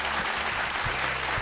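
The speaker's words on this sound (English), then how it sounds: "Another round of applause for Annette Poi Poi, ladies and gentlemen." A TV vocal contest crowd applauds a contestant, dense steady clapping filling the short stretch at even loudness, with no talking over it.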